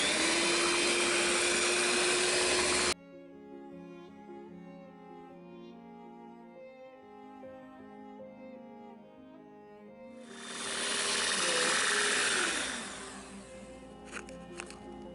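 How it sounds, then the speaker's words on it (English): A blender whirs loudly as it mixes pumpkin cake batter, a harsh steady motor roar for about three seconds, a quiet pause, then a second loud burst that rises and fades. Nobody speaks. "next we're finna blend with this blender type thing"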